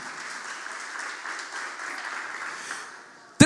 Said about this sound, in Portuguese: Vamos dar uma salva de palmas aí para esse grupo de teatro top